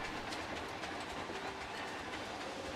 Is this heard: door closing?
no